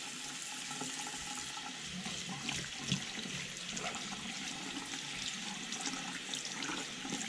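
Makeup brushes rinsed under running tap water, a steady faint hiss of flowing water with soft splashing and a few louder splatters, no talking.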